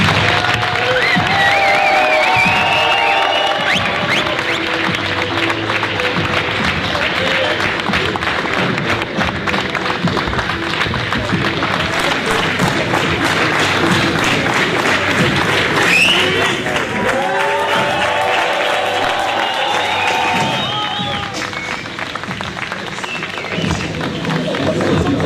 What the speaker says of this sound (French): je vous demande d'applaudir le président de République belge